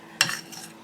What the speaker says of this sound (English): Give this a really good stir around.